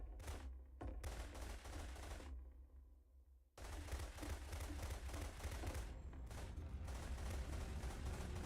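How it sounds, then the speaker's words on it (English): Rapid, loud gunfire in The Beginner's Guide comes in bursts of repeated shots, pauses for about a second of near silence, then resumes in sustained volleys to the end. "Remember, you can click to fire the gun."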